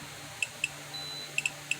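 Short, sharp electronic beeps from a JLD404 meter's low voltage alarm, five chirps spaced unevenly over a steady low hum, close and fairly loud.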